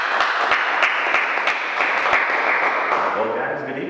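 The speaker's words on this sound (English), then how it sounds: "Please give them a round of applause." An audience at a live evening show gives a round of applause, dense steady clapping close by that slowly fades toward the end.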